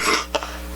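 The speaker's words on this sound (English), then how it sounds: "I have a bad cough." A single harsh cough from a heavy smoker with a cold, close and fairly loud, bursting out briefly and then fading into faint background hum.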